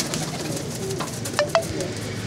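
Soft pigeon coos, a few brief calls over a faint background hum, fairly close and calm.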